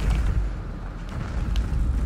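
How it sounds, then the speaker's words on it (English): Deep rumbling explosions in the VR space-combat game Eve Valkyrie Warzone, with a heavy low-end boom, rolling continuously at moderate loudness without clear separate blasts. "Yeah, explosions."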